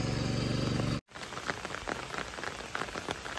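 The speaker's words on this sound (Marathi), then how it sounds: "तर पाऊस वरना पडता" Rain falls on rice paddy fields during the Konkan planting season, a close, even pattering wash of drops, briefly cut out near the start, with no speech.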